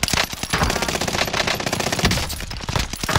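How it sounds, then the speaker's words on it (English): Sustained rapid automatic gunfire in the Call of Duty mode Operation Monarch, loud and dense, with overlapping bursts of shots rattling continuously across the whole span and no clear pauses. "Whoa, who's shooting at me?"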